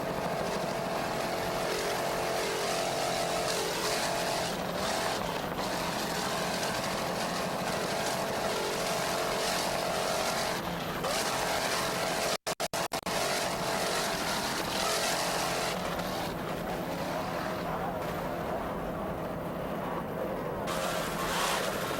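Offshore racing powerboats run at a Fort Lauderdale race, among them a 28-foot skater catamaran with twin 2.5 EFI outboards, a loud continuous engine roar with passing surges and one sharp break partway through.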